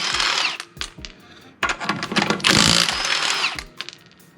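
An impact wrench loosens the wheel nuts on a Lexus IS300 before a coilover install, giving loud rattling bursts of hammering, several short and one longer, close up.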